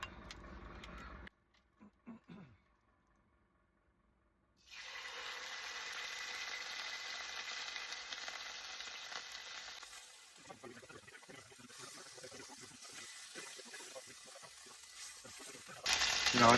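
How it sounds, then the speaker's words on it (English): Steady broadband sizzling of steak frying in a hot pan starts after a brief quiet and continues loudly, with some clatter near the end. "Let's get back to the frying pan."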